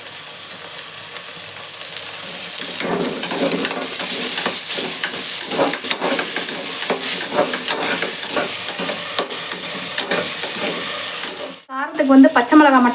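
Onions and green chillies frying in oil in a pan, stirred throughout: a dense, loud sizzle with repeated scraping strokes of the spoon, close by. It ends with a short break and then a few running-water or clattering sounds.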